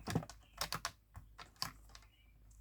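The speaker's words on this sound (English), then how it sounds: "I need to trim it down because I didn't get a decent cut." Paper card being trimmed for a handmade card craft project, with a series of close, crisp snipping and slicing clicks, including a quick cluster of several cuts, and no talking.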